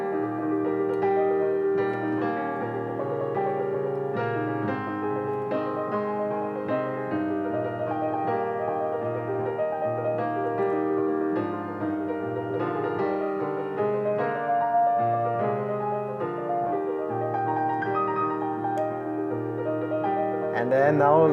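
Solo piano plays the second stanza of O Holy Night with a flowing triplet accompaniment beneath the melody, soft and continuous without interruption.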